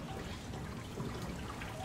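Water trickles and dribbles steadily in the sci-fi horror game Soma, a soft continuous gurgling flow with faint drips and no voices.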